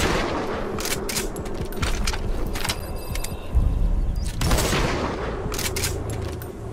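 Metal Gear Solid V: The Phantom Pain game gunfire, dense rapid bursts and scattered shots over a constant noisy battle backdrop, loud and continuous with a heavier blast midway.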